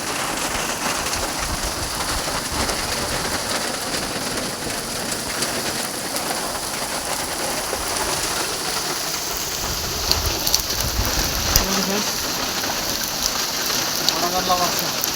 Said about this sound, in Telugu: చూడండి వడగళ్ళ వాన పడింది